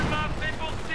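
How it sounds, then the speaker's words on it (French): Suppressive gunfire in Company of Heroes: Tales of Valor, Falaise Pocket mission, a dense rattle of rifle and machine-gun shots layered over battlefield noise, with a voice talking over it. "Tir de suppression."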